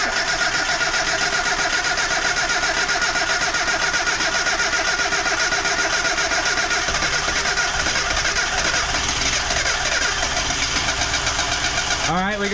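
Engine noise from a K-swapped Honda EG hatchback in a garage, running steadily loud throughout with a sharp change near the end, as people talk nearby.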